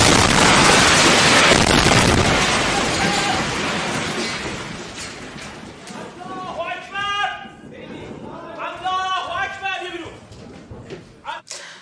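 An Israeli strike hits the Iranian state TV IRIB broadcast building, starting with a loud, rough burst of blast and debris noise that slowly decays. Shouting and agitated voices follow over the dying rumble.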